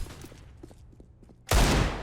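Gunfire in the CS:GO video game: a few faint, spaced pops at first, then a sudden loud, dense burst of shots that carries on to the end.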